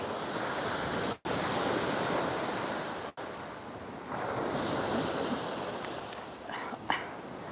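Ocean waves pound a rocky point in a steady roaring wash with heavy wind buffeting the microphone and two brief cut-outs, surf surging again near the end.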